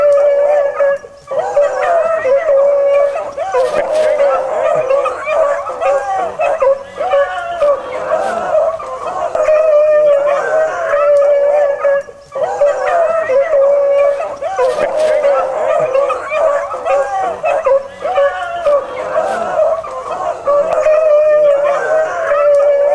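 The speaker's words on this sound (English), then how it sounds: "Rabbit hunting with dogs, that rabbit is coming toward us right now." Pack of hunting dogs howling and baying while chasing a rabbit, a loud continuous chorus of long wavering howls outdoors, repeating in waves with short pauses, and someone talking over it.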